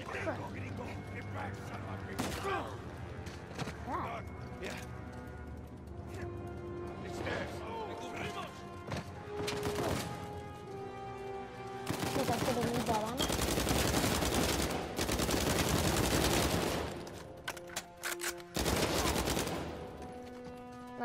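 Uncharted 4 combat gunfire, scattered shots early, then long loud bursts of automatic fire in the later half, with a player talking throughout.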